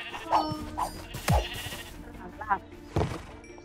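Sheep from the game RLCraft, a Minecraft modpack, bleat several times in short, distinct calls spaced roughly a second apart, clear and close, over a faint game background hum.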